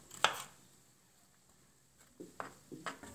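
A knife chops onion on a cutting board while preparing an aval (flattened rice) snack: one sharp cut near the start, then a few quicker knocks after a quiet pause, close and fairly soft.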